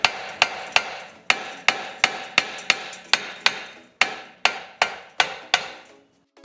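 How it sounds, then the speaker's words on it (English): Rubber hammer tapping on a corroded brake part from a Dodge, about fifteen sharp, evenly spaced knocks ringing out one after another at close range, with no talking over them. "So we'll get actually the rubber hammer"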